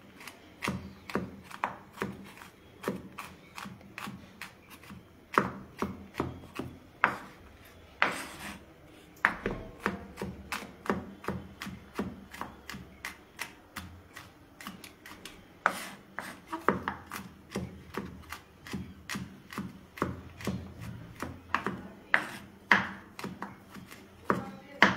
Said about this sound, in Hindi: तो यहाँ पे मेरा गार्लिक हो गया है चॉप